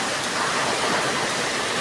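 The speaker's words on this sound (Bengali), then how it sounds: "এই যে বৃষ্টি হচ্ছে" Steady rain falling outdoors near a small vegetable garden, a dense even wash of hiss at constant level, close and uninterrupted, with no talk.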